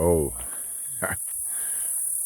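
A steady high-pitched chirring of cicadas runs throughout, with a brief voice at the start and a few faint knocks beneath it.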